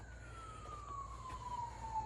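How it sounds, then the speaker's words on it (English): Sirens wail faintly in the distance, one slowly falling tone drifting over low background rumble outside a garage where a 1969 Oldsmobile Cutlass W-31 is being restored. "Oh, I get some sirens going on."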